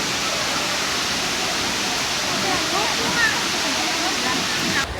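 A waterfall roars steadily close by in a remote mountain town in China, a dense rushing wash of falling water that continues without a break.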